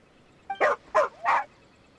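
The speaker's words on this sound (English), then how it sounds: "Here, doggy. Good doggy." Dog in the Genshin Impact video game giving three quick, sharp barks in a row, close and clear against a quiet background.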